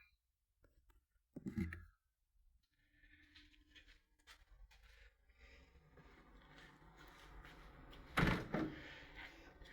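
A door on a four-door Morris Minor car opens with a soft thunk, followed by quiet rustling and a second, louder clunk near the end, all close by.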